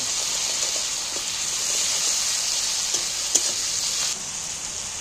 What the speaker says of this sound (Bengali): রসুন বাটাটা তেলের সাথে একটু নেড়ে নেব